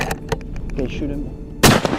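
A rifle fires from a helicopter at a feral hog in Texas: several sharp cracks, then one loud close shot near the end, over the steady drone of the aircraft.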